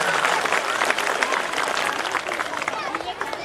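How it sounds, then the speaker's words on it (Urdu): An audience bursts into loud, sustained applause at a school chief guest speech event, dense clapping filling the whole stretch with a steady crowd roar. "آئیے ایک مرتبہ ان لوگوں کے لیے اور ایک مرتبہ زوردار تالیاں بجائیں"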